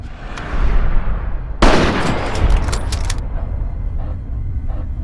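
Gunfire in the video game Fallout 3, a dense burst of shots in a fight with raiders, loud and close, starting abruptly after a noisy lead-in and tailing off into scattered fainter reports.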